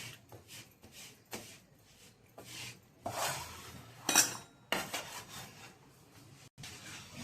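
A spoon scrapes and rubs through a horse gram flour and jaggery mixture in a pan, coming in short, uneven strokes with small metallic clinks, close and fairly quiet.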